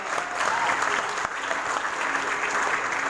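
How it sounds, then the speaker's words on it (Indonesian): An audience applauds for the Cikande team at a community gathering: steady, dense clapping that holds at an even loudness for the whole stretch, close and continuous. "Beri aplaus dong buat Cikande."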